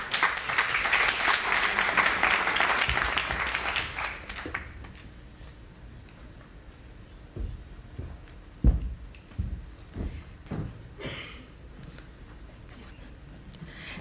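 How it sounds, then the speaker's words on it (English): Conference audience at an entrepreneurs' lightning-talk event breaks into a loud round of applause that fades out after about four seconds, followed by scattered faint bumps and quiet room noise. "Let's give them a round of applause."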